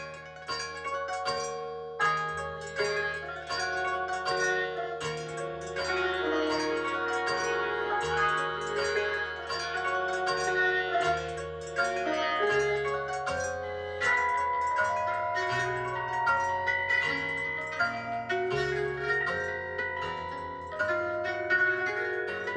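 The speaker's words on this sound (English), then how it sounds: "He has created music out of everyday objects." Music built from tapped everyday objects, amplified and processed with effects, plays continuously with layered pitched, bell-like tones and steady percussive taps at a constant loudness, no talking.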